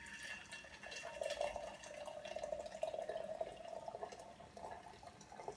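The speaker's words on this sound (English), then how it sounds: "Add the hot water into the teapot." Hot water poured into a teapot, a steady trickling, splashing stream that holds through the whole stretch at moderate level, with no talk over it.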